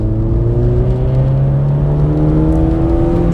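A VW Golf GTI MK2 8-valve engine revs steadily upward in first gear, loud and close, with its droning pitch climbing throughout.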